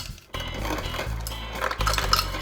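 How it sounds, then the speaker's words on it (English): Ice cubes tumble from a fridge door dispenser into a glass, a close, loud rattling clatter that runs for about two seconds over a low motor hum, with a few bright clinks near the end. "Gotta get your ice first."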